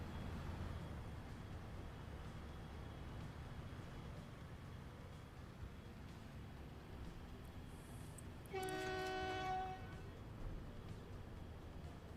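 A train runs with a steady rumble in the Transport Fever 2 railway video game, and a short horn blast sounds near the end. There is no talking.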